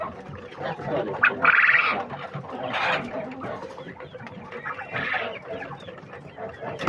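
Chickens cluck repeatedly close by, with several louder squawking bursts among steady low clucking; no talking.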